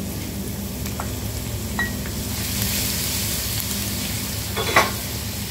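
A whole head of chopped garlic dropped into hot oil sizzles steadily and close, a dense hiss with a few soft clinks of a utensil against the pan, no voices.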